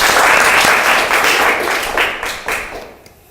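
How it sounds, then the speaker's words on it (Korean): Close, energetic audience clapping at a Korean film screening event, thick and loud at first, then tapering off into a few last claps. "박수 한번 드릴게요."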